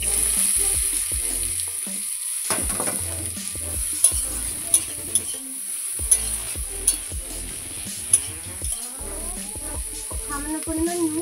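Moringa flowers frying in hot oil with a dried chili, a steady close sizzle stirred with sharp utensil clicks and scrapes against the pan, over low background music.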